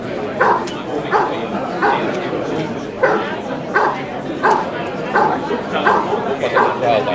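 A dog vocalizes in repeated short barks and yips roughly every half second during a protection-work trial at an IPO world championship, loud and close amid steady crowd and field noise.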